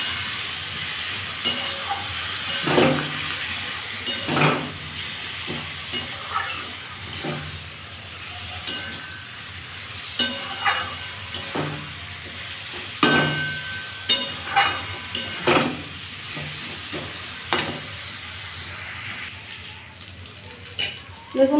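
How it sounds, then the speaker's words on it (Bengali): Dry spices and potatoes are sautéed with salt and a little water in a pan for a thin tilapia fish curry, giving a steady sizzle broken by repeated scraping stir strokes at close range. "আমি এটা ভালো করে কষিয়ে নেব, কারণ সবই শুকনো মশলা।"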